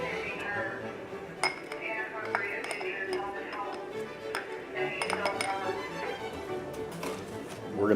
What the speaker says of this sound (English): We're going to mix it all up.